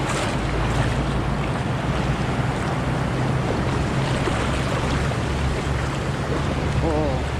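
Choppy sea water churning around a swimmer, a constant close wash of waves and wind buffeting with a low rumble, steady and loud throughout.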